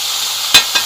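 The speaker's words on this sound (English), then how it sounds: "Let's flip those steaks." Steaks sizzling steadily in a hot pan, with two short louder bursts as they are flipped near the end; close and alone, no talking.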